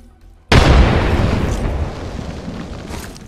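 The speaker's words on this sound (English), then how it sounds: "Throwing frag." A frag grenade detonating in the video game Apex Legends, a sudden loud close boom after a brief quiet lead-in, followed by a long rumbling decay.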